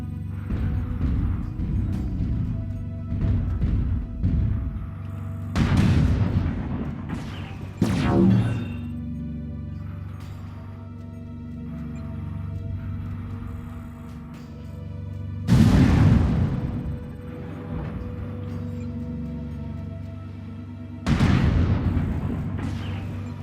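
Heavy booming weapons fire from battle mechs in MechWarrior Online as an enemy mech is destroyed, several loud blasts spaced seconds apart over a constant low machine hum, with no voices.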